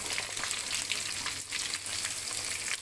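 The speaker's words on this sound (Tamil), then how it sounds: "வெங்காயம் போடும்போது அதோட வரமிளகாயை ஆட் பண்ணிக்கோங்க. நல்லா வதக்குங்க." Small onions and dried red chillies sautéing in hot oil with cumin and curry leaves for a chicken curry, a steady close sizzle and crackle with faint stirring, no voices.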